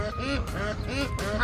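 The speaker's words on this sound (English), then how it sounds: "Those are ducks." Several ducks quack in quick succession nearby, a run of nasal honking calls close together.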